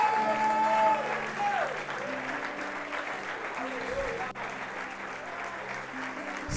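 A church congregation applauds together at a youth congress service, a steady wash of clapping that keeps up through the whole stretch while sustained organ or keyboard chords play underneath.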